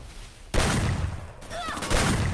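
Gunfire in the mobile battle game Free Fire comes as a few sharp bursts after a quiet start, fairly loud and close. Game effects and a faint voice sit underneath.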